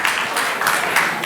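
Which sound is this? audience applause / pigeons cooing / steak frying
audience applause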